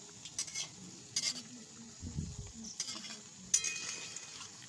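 Mango fritters with nuts frying in hot oil, a soft steady sizzle with occasional clinks and stirring scrapes of a utensil against the pan, close by and fairly quiet.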